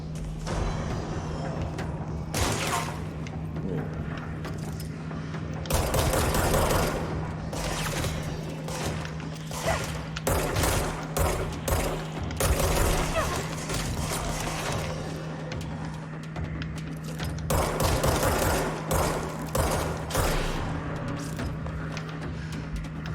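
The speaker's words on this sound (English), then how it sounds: "There's somebody shooting me from." Gunfire in the video game Control: bursts of shots and heavy thuds repeat irregularly over a low steady hum, loud and close, with brief quieter gaps between volleys.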